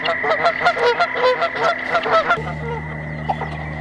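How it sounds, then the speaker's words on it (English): Geese fighting on a farm honk loudly and close by, with a rapid, overlapping burst of harsh honks that eases into quieter, scattered calls. "Yeah, there's a goose fight happening."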